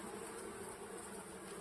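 Honey bees buzz around an open hive, a soft, steady, close swarm drone that hums continuously and evenly for the whole moment, with no voices.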